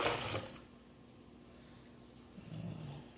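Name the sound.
pouring cold water into a jug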